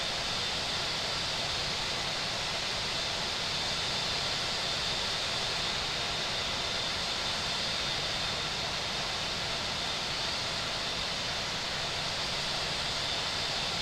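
Airliner taking off from runway 27 left in Infinite Flight, a steady broadband roar of jet engines holding level and loud throughout with no voices.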